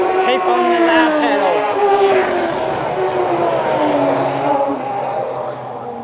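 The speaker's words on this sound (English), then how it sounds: "some cars coming through. But yeah, they're full on the noise down here." Race cars roar past at the Bathurst circuit, a loud, continuous engine drone with rising and falling pitch as several cars come through close by, fading slightly toward the end.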